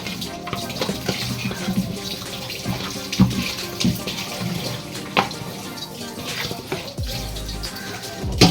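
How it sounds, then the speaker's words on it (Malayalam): Hot water is drained off boiled tapioca (cassava), making a steady, close splashing pour with a few sharper clattering knocks. "ഒരു വെള്ളം കളയണം ഒറ്റ വെള്ളം കളയണം"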